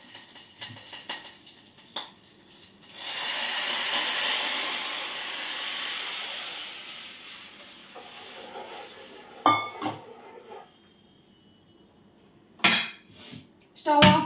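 Curry leaves dropped into a hot tempering for tamarind pulusu give a loud sizzling burst lasting several seconds, followed by clinks of a pot and utensils and brief handling noises.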